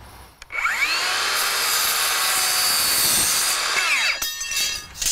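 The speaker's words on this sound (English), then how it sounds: "So I'm just going to use safety squints and a portable saw." A portable saw rips slowly through aluminum siding track, a loud sustained metallic whine with a grinding rasp that starts abruptly, holds steady for about three seconds, then winds down and stops.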